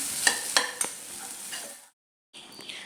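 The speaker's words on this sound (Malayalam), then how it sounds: "കുറച്ച് കറിവേപ്പില കൂടി ഇട്ടിട്ട് നമുക്ക് നന്നായിട്ടൊന്ന് വറുത്തെടുക്കാം" Grated coconut and curry leaves roast in a pan for a fish curry, a soft dry sizzle under several distinct scraping stirs. It cuts to brief silence, then the frying resumes faintly.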